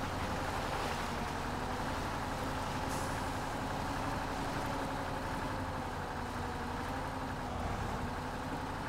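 A logging truck in MudRunner rumbles with a steady, droning engine note that holds constant and loud throughout, without pauses.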